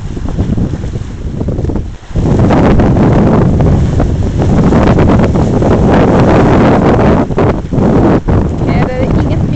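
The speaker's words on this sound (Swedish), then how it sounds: "Det blåser som bara den här." Heavy wind buffets the microphone in loud, rumbling gusts with a brief lull early on, over what sounds like open water at Sjöhaget.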